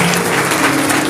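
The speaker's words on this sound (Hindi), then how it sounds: "तालियां यीशु के लिए" A church congregation claps together in dense, loud, even applause for the whole brief moment, with no talking over it.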